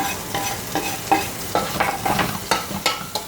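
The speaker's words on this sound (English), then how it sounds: "I'm going to put a little bit of olive oil like that, and we're going to throw in the onions, the carrots," Onions, carrots and mushrooms fry in olive oil in a pan, giving a soft sizzle under repeated scraping stirs and light clicks of the utensil, close by with no talking.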